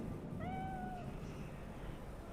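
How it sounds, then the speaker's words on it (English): A single short, clear cat meow in the video game Cyberpunk 2077, with a rising then falling tone over a low steady background hum at middle distance. "I hate cats."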